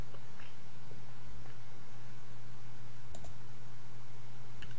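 Computer mouse clicks while downloading software on a computer, several short sharp clicks spaced apart over a steady low hum, close and fairly quiet, with no talking.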